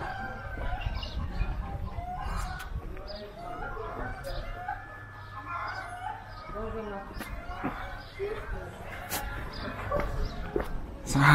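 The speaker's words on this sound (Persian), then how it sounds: "حالا صدای مرغ و خروس قشنگ شما اینجا میتونید بشنوید." Chickens and roosters cluck and crow on a street in southern Tehran, mixed with busy street noise, scattered dog-like barks and people talking nearby throughout.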